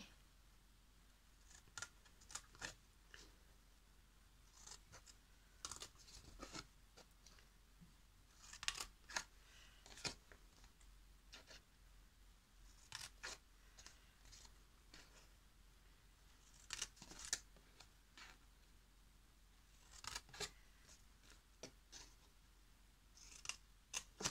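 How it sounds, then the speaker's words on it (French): Scissors snip through card along the fold lines while a gift-card holder box is made, with quiet, scattered clusters of crisp cuts separated by pauses. "Donc vous allez couper aux pliures"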